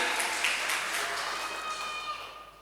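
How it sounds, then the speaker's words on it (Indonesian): Church congregation clapping during worship at GPdI Logos Balung, a dense, steady wash of applause from many hands that gradually thins toward the end, with no voices standing out. "Berikan tepuk tangan bagi Tuhan, kemuliaan hanya bagi Tuhan."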